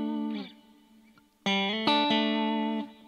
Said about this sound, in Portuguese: É 8 segundos que vai durar esse reverb.